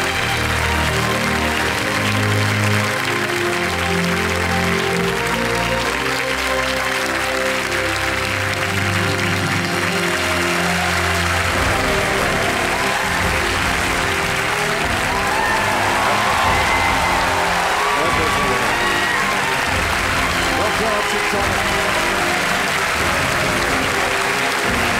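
A studio audience claps without a break on a KBC quiz show set in honour of Dr. Achyuta Samanta. The applause is loud and dense with a few faint cheers and no clear speech.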